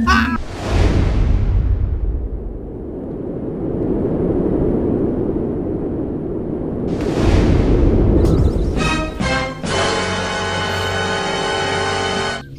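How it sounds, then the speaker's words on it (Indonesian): Grenade blasts in the sandbox game Dudetheft Wars, with a booming explosion followed by a long rumbling roar, a second blast later, then game noises and music, loud and close. "Oh, dia lempar granat, guys."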